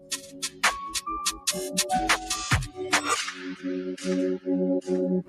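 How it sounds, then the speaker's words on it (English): Several sharp gunshots ring out in a rapid burst from a street surveillance camera recording, loud, close, impulsive cracks followed by more spaced reports, with no talking. "They would shoot him multiple times"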